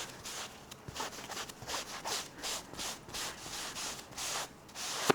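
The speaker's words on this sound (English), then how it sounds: "a magic eraser works so well on this" Magic eraser scrubbing a dirty patio cushion, rhythmic back-and-forth rubbing strokes at a steady pace, close and soft with no talk.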